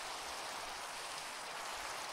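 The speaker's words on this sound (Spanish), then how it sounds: "Me gusta cómo se ve la lluvia." Steady rain falling in Minecraft 1.19 with a low-spec PC shader, a continuous even hiss of drops that holds constant throughout without any other sounds.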